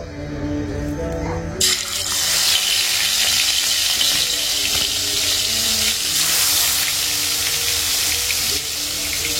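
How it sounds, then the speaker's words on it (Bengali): Fish fries in hot oil in a home kitchen, a dense, steady sizzle that starts abruptly and continues loud and close throughout. "আজকে সবগুলোই একসাথে ভাজাই বসিয়ে দিলাম"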